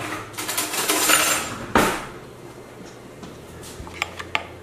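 A metal spoon clinks and scrapes inside a jar of hot avocado salsa made with fresh tomatillos, giving a few scattered knocks, one sharp clack, then lighter taps trailing off, with no talk.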